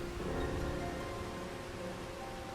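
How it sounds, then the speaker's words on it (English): Steady rain falls in the Final Fantasy XIV: Stormblood video game, a soft, continuous hiss of rainfall with a faint low rumble beneath it, no voices present. "I guess it's fitting that it's raining now."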